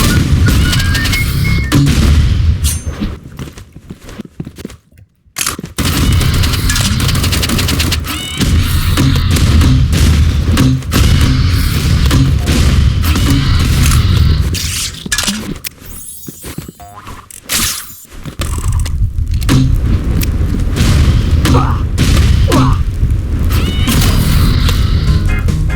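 Loud, repeated booms and crashing blasts from a grenade launcher in Marvel Rivals, arriving in dense bursts across a long stretch with a few brief quiet gaps between volleys.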